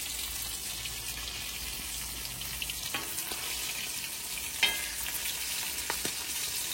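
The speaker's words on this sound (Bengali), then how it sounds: "ইলিশের তেলে বেগুন ভাজা," Eggplant sizzles steadily in hilsa fish oil, a close, continuous bright crackle with a few sharper pops and occasional stirring clicks, no voices.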